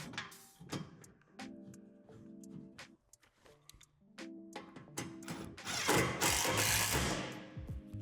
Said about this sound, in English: Now go back and tighten the hardware on the base.